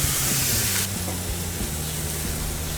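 Sausage, egg and English muffins sizzle on a Blackstone griddle, a steady loud close hiss of frying that continues without a break and with no talking.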